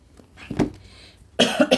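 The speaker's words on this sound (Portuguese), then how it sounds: "ainda vou dar umas tossidinhas" A single person coughs a couple of times close to the microphone, short sharp bursts after a brief quiet stretch.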